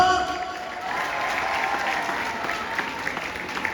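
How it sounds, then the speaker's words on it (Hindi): Sustained applause from the audience at the inauguration of a Haryanvi web series at JCD Vidyapeeth, a steady wash of clapping that swells at the start and holds evenly, with faint crowd voices beneath. "जोरदार तालियां।"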